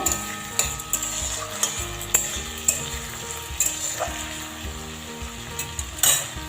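Carrots and green peas sizzle in a pan with a steady, close frying hiss, broken by repeated scrape-and-clack strokes of a stirring spatula against the metal.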